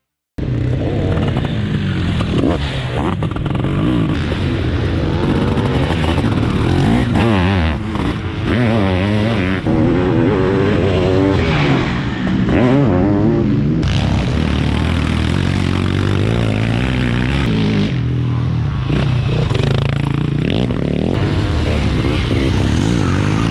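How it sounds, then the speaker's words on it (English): 700cc, 85-horsepower two-stroke sidecar motocross engines race at a World Sidecar Championship event, with a loud continuous roar and shifting revving pitches as several machines pass close, the sound staying dense and unbroken throughout. "700cc, 85 horsepower two-strokes are the norm here."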